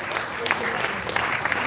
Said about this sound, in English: Can we give a round of applause again to him?